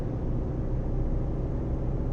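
In Euro Truck Simulator 2, a steady low truck engine rumble holds constant throughout, idling or revving slightly with a little throttle, with no voices.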